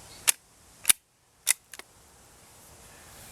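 A .22 Long Rifle fired outdoors into a hay bale, heard as three sharp, fairly distant cracks about half a second apart, then a quick softer double pop, followed by quiet.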